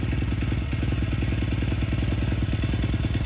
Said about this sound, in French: juste le bruit de normal d'un moteur qui tourne